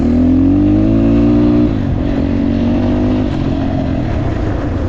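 A Kovi 250 PRO motorcycle engine revs up steadily, its pitch climbing, then drops briefly as it shifts and keeps pulling hard with a constant roar.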